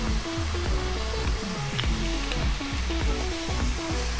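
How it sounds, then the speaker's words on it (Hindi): Chicken pieces frying in a hot pan as garlic paste goes in, a steady close sizzle with faint scraping and stirring throughout, no voices. "तो 5 मिनट हमने चिकन को फ्राई कर लिया है। अब हम ये लहसुन पेस्ट डाल देंगे"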